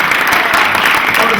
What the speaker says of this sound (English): You got a round of applause right there for the Smith Center.